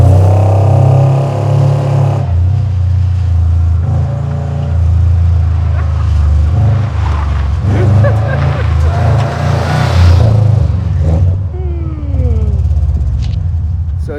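A Subaru Impreza GC8 driven hard through a slalom run, its engine revving and droning as it rises and falls through gear changes, loud and continuous, with voices talking over it.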